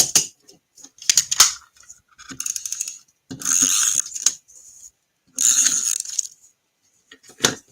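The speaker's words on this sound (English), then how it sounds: "we're going to use those scissors again" Scissors snip through paper in a run of crisp, close cuts: short sharp clicks alongside several longer slicing strokes, with pauses in between and no talk.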